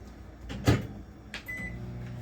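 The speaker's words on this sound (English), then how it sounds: "So I'm going to go ahead and start microwaving that." A kitchen microwave oven with a glass bowl inside starts up, with a clear door thump and beeps followed by a steady low hum, close and moderately loud.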